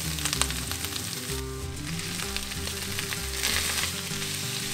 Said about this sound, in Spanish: agregamos de regreso el chorizo y las salchichas y los freímos juntos